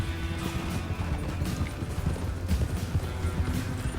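Horse hooves clip-clop in the Red Dead Redemption video game, a steady, close rhythmic trot over a low rumbling game background with no voices.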